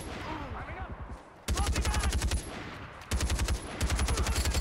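An A52 gun fires in Far Cry 4 in three rapid automatic bursts, each a dense, punchy volley of close, loud shots separated by brief pauses.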